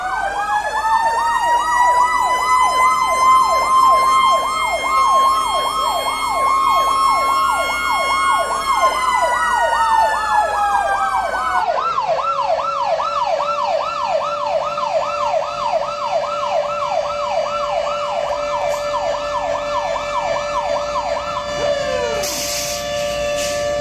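Emergency vehicle sirens sound loud and close at a funeral procession for a young scout and volunteer firefighter, several overlapping wailing sirens rising and falling continuously, then shifting into a faster yelp pattern, with no talk.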